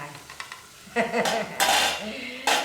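Stir-fried kale with crispy pork being scooped from a pan and served, with utensils scraping and clinking against the metal in a few close bursts, and faint sizzling underneath.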